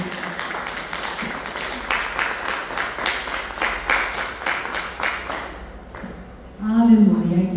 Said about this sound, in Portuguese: Dê a sua melhor salva de palmas para Jesus.